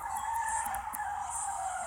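Continuous tire squeal from a skidding AE86 car in the video game FR Legends, steady and loud for the whole stretch, with engine noise underneath and no talking.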